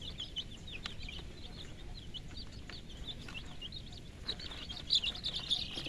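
Faint, high chirps from brooded chicks about ten to twelve days old, scattered irregular peeps over a quiet background, with a slightly louder cluster near the end.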